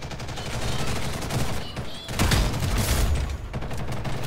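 Sustained automatic gunfire in the shooter game Ghost in the Shell: First Assault, with dense rapid bursts over about four seconds and brief lulls, loud and close.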